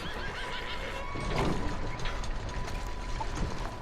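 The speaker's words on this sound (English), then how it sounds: "Hear a horse in here." A horse whinnies once in a barn in Red Dead Redemption II, a short rising neigh that stands out over a low background hum and faint hoof shuffling.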